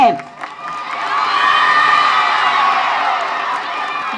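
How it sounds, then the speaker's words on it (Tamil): Audience at a school debate event for Vinayagar Chaturthi bursts into loud cheering, whoops and children's shouting, a sustained excited roar with some clapping after a brief opening voice. "உங்கள் கைத்தட்டலோடு"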